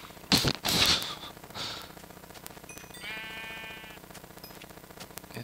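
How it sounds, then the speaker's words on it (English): A sheep bleats once in the Minecraft video game, a short wavering call in the middle, after a few louder bursts of other game sounds, with a faint steady background behind it. "I caught a sheep in my pen?"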